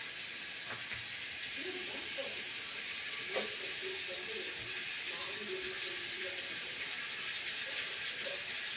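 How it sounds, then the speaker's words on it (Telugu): Cooking oil heating in a pan, giving a steady, fairly quiet sizzling hiss throughout with a few faint clicks and knocks. "నూనె కాసేపు కాగనియాల ఫ్రెండ్."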